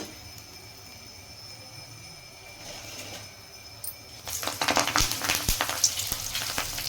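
Stuffed green chillies fry in hot oil. A low background hum gives way to a loud, crackling sizzle that bursts up and keeps popping unevenly, with no voices.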